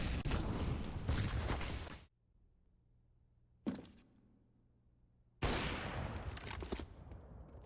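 Bursts of gunfire in the video game CS:GO, with a dense volley, a brief pause broken by a single sharp shot, then another sustained burst, loud and close.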